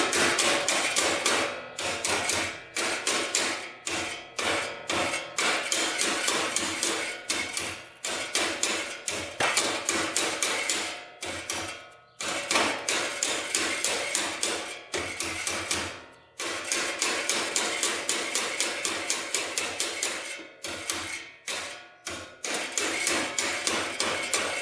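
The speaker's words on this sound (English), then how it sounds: "So we're just going to work that with a hammer." Rapid, steady hammer blows strike a stuck part on a Honda trike, loud metallic knocks repeating in fast bursts with brief pauses between runs, no talking.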